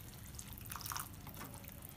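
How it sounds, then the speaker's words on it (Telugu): Water is added to Manchurian sauce in a pan, a faint, close patter of drips and small liquid splashes over a low background hiss, with no talking. "ఇప్పుడు కొద్దిగా వాటర్ వేసుకుందాం అండి"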